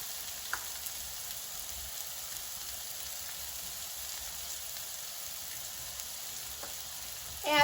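Sliced zucchini seasoned with salt, pepper and garlic powder sautéing in a frying pan on a stove, a steady soft sizzle that stays even and close, with a brief clatter at the very end.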